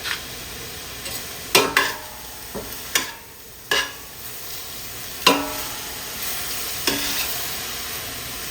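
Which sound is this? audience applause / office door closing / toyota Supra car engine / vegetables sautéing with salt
vegetables sautéing with salt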